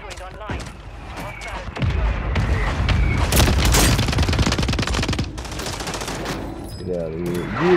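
Artillery strike explosions in Call of Duty Warzone, a dense barrage of booms and blasts rumbling loudly for several seconds, with rapid gunfire-like crackle and a voice speaking during and around the barrage.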